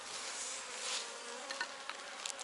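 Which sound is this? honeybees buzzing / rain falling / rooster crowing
honeybees buzzing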